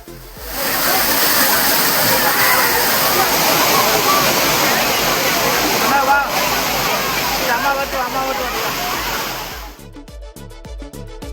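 Agasthiyar Falls waterfall pouring heavily, a loud steady roar of rushing water that fills the scene for nearly ten seconds before cutting to quieter sound.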